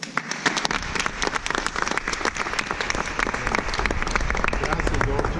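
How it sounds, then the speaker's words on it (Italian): Sustained applause from an audience inside a church during a 2018 commemorative event, a dense, steady patter of many hands clapping that swells slightly and continues throughout without talk. "di fare un applauso a Giorgio che ci sente"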